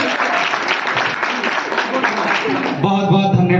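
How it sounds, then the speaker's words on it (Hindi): An audience of seniors and classmates at a birthday celebration claps steadily and loudly, a dense continuous round of applause that carries on throughout, with voices mixed in near the end. "एक बार शुभम के लिए आप लोग के सीनियर या फिर सहपाठी ताली बजाइए।"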